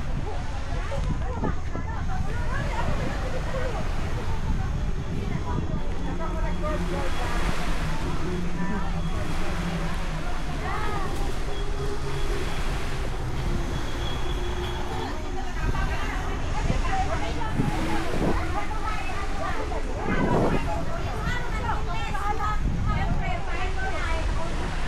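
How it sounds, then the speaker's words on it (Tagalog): Sea waves washing steadily onto a shore, a continuous wash of surf mixed with wind noise on the microphone and occasional voices talking nearby. "Dagat na yan."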